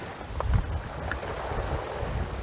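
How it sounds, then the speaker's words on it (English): Wind blowing outdoors at a fishing match, a steady broadband rush with buffeting gusts on the microphone throughout, no voices. "wind's blowing"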